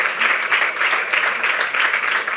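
An audience applauds steadily for a couple of seconds, a dense, even wash of clapping heard up close with no one speaking over it.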